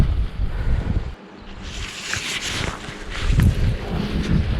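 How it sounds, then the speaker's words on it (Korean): Strong wind buffets the microphone outdoors on the water during bass fishing with a minnow lure, a steady loud roar that swells and dips with the gusts, with no voices. "바람 너무 많이 부는데"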